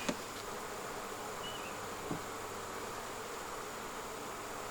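Honeybees buzzing in a hive troubled by hive beetles, a soft, steady drone of many wings, with a couple of faint knocks and no voices.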